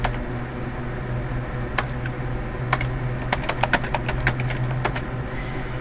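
Computer keys typed at a steady clip, crisp individual clicks close by over a constant low hum, no voices.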